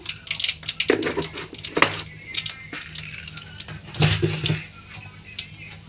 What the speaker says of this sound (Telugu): మినప్పప్పు వేస్తున్నాను